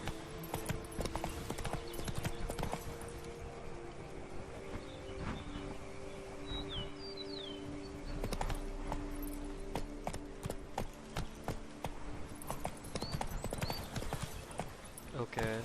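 Roach, a horse in The Witcher 3: Blood and Wine, trots with a steady clip-clop of hooves, close and continuous, over layered game ambience with occasional bird calls and voices.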